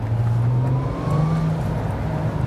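Engine of a VW Golf R32 Mk4 heard while driving through a tunnel, a steady low drone with a slight rise in revs, enclosed and echoing, continuous throughout.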